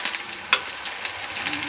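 Garlic crackles and sizzles softly in hot oil in a pan for village-style kaalu saaru, a steady quiet hiss with one brief sharper pop.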